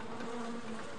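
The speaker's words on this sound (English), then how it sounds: "They're domestic bees." Domestic honeybees (Apis mellifera) buzzing in a continuous steady drone, close and moderately loud, with no speech over it.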